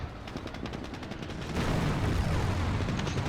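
Panzer IV tank cannon fire in the Company of Heroes war game, with a series of rapid shots followed by a heavier, sustained rumble of gunfire and booms, loud and close.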